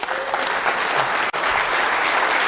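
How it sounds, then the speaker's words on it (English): A security conference crowd applauds warmly, a loud continuous wash of clapping with a brief dip partway through and no talking. "can you please give a warm round of applause for Doc,"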